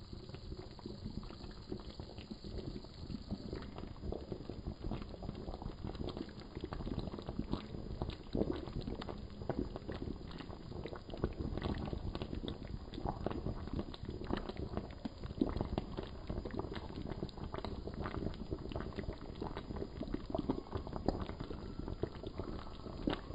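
Curry fish in coconut milk boils in a covered pot, a steady loud bubbling and simmering that runs on without a break.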